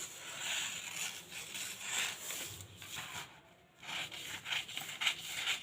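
Scissors cutting blouse fabric, a steady run of soft rasping snips and fabric rubs, close and quiet with no talk.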